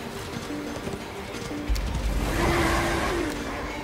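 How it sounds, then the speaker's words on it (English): Horse galloping in the video game Darksiders 2, a steady drumming of hooves mixed with game engine noise, growing louder and heavier about halfway through. "Glad I get to start on the horse, man."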